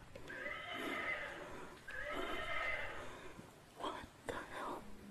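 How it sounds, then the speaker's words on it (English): A horse neighs twice in long, quavering whinnies, followed by a few softer snorting bursts, fairly close with faint background noise. "That horse is moving."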